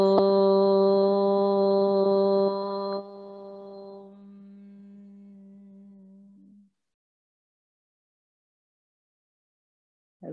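A single sustained Om chanted as part of a yoga practice, a steady resonant hum with rich overtones that holds for several seconds, steps down in loudness, and fades out, followed by silence and a brief faint sound at the end.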